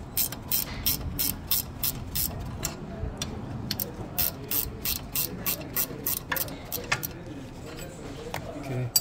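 Ratchet loosening a rear brake bolt counterclockwise on a Volkswagen Tiguan, a steady run of sharp clicking strokes in quick rhythm, close and clear, with low background rumble.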